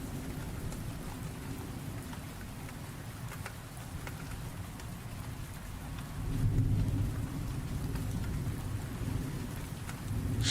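Steady rain falls in a continuous dense hiss with a low rumble underneath, swelling slightly louder partway through, with no voices.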